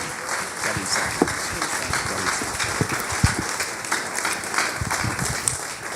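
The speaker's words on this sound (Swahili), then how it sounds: "Hebu tupige makofi ya shangwe." A church conference audience bursts into sustained applause for Dr. Joel Hamuli, a dense wash of many hands clapping at an even level throughout, with a few sharper claps standing out.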